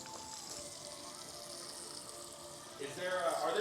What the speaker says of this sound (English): I'm going to take a pot like this, and I'm going to fill it up halfway with some hot water.